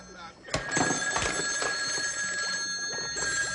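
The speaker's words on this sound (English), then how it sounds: "I can't handle all these phone calls. Just ringing and ringing and driving me bonkers." An old telephone bell rings continuously in a sustained metallic trill, fairly loud and close, with clattering knocks and voices mixed in behind it.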